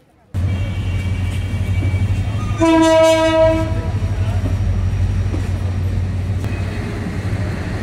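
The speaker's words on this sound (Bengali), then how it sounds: "ট্রেন এখন যাবে ভুয়াপুরের উদ্দেশ্যে।" At Jamalpur Town Junction station, a train sounds a loud, close horn blast lasting under a second over a steady low engine rumble, with station ambience continuing after the horn stops.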